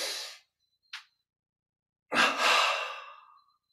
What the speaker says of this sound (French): Double inspire, on contracte tout.